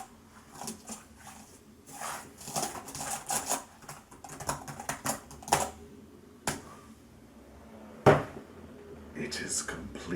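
Fingers typing an email on a computer keyboard, rapid irregular key clatter in bursts with a few louder clacks and brief pauses, close by.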